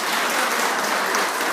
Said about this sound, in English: So give her a clap.